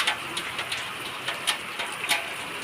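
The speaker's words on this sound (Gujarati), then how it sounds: "અમારા ગામમાં પહેલો વરસાદ આવી ગયો છે" Steady first rain of the season falling in a Gujarati village where a buffalo is being milked, a continuous close hiss with occasional brighter drop splashes and no talk.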